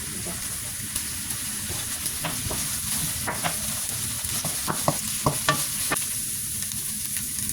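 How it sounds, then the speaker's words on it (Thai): Onions stir-frying in hot oil for a udon noodle dish, with a constant crackling sizzle and a run of scraping spatula strokes against the pan, loud and close throughout. "ตอนนี้น้ำมันของเรา ก็เริ่มร้อนแล้วนะจ๊ะ เราใส่หัวหอมใหญ่ลงไปผัดนะจ๊ะ"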